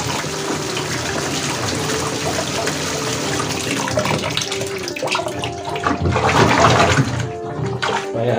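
Water drains out of a Panasonic NA-W76BBZ2 7.5 kg twin-tub washing machine in a constant, loud gushing rush that stays close, swelling slightly toward the end with no voices over it.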